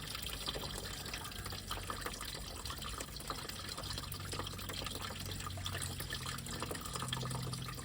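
Coolant water drains from a Triumph Stag's cooling system in a steady, continuous splashing trickle, close and fairly even throughout, with no talking.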